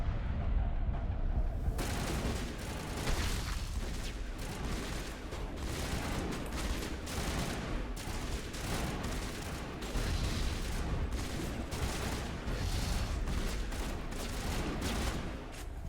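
Heavy gunfire and grenade blasts from the Mass Effect video game fill a dense, continuous barrage, with repeated sharp bursts and booms layered loudly throughout.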